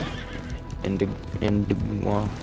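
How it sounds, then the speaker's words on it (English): In a video game, a horse whinnies and neighs repeatedly after being shot, with hoof clip-clop and a person talking over it throughout. "Oh, shot my horse."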